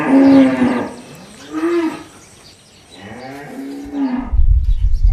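Dairy cows on a farm moo loudly in several long, drawn-out calls one after another, close by and with no other sounds over them.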